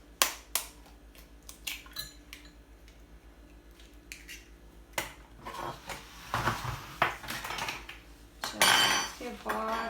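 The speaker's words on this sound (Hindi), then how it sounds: "एग को हम क्रैक करेंगे।" An egg is cracked and whisked in a home kitchen while preparing a spicy cheese bagel, with sharp clinks against a bowl and rapid metallic clatter of utensils close by.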